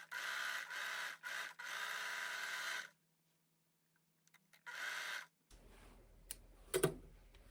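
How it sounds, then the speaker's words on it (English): A serger overlocks the edges of a sewn kids' romper in several short bursts of rapid clattering stitching, close by, separated by pauses and followed by faint handling clicks and rustles. "now we are going to serge our neckband, the sleeves,"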